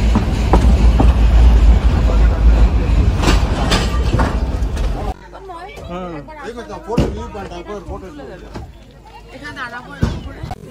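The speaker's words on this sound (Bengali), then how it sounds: "তো এখানে টয় ট্রেনটা দাঁড়ালো" Nilgiri Mountain toy train, the old heritage mountain railway running up to Ooty, rumbling loudly and clattering for several seconds before going quiet at a viewpoint stop, where people then talk nearby.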